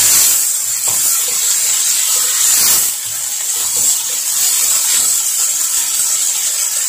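Food in a hot pan hisses and sizzles steadily while frying with chili for a rainbow chicken pasta, a loud, close, continuous hiss that swells briefly with stirring.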